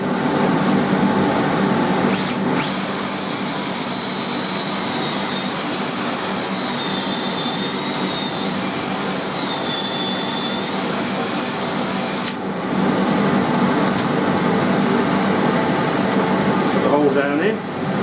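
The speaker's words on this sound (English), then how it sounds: "Now drill the hole." A power drill bores a bolt hole into an anvil stump, a steady loud whine that holds for about ten seconds between short bursts of broadband mechanical noise.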